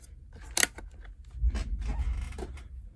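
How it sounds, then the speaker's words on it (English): A faulty Super Nintendo Super Bomberman 2 cartridge being rubbed down and wiped clean, giving soft scraping and rasping friction strokes with one sharp click near the start, close and fairly quiet. "we've given it a bit of a rub down. Give it a wipe over."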